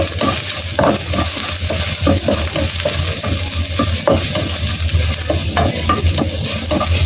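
Ginger strips frying in a hot pan, a steady close sizzle with repeated scraping stirs of a utensil against the pan throughout, no talking.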